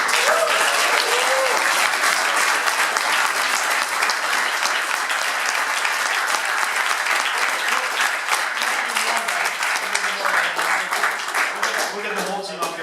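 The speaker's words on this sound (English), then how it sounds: "the Startup Latvia team deserves a huge round of applause." A crowd at a Riga startup weekend gives loud, sustained applause for the Startup Latvia team, dense clapping throughout with voices mixed in.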